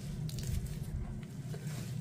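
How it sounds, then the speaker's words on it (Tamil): Grated carrot pulp squeezed through a clean cloth to press out the juice, a steady soft wet squishing with faint dripping, close and continuous for about two seconds with no talking. "இதில் உள்ள ஜூஸை நம்ம எடுத்துடணும்."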